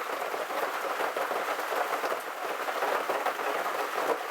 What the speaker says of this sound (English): rain's dying down, as is the wind